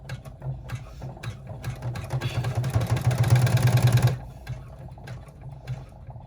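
An embroidery machine stitches the lining of a small mini wallet, its rapid mechanical whirring building over a few seconds before stopping abruptly, followed by faint clicks and handling sounds, close up.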